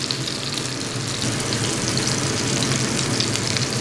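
A chicken cutlet sizzles steadily in a pan as it turns golden, a close, even crackle with no voices.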